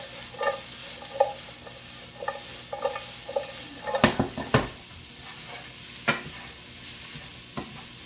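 A stir fry with peppers is tossed and stirred in a hot pan, sizzling steadily while utensils scrape and clack in a loose rhythm of soft strikes, with a few sharper knocks near the middle and a quiet frying hiss underneath.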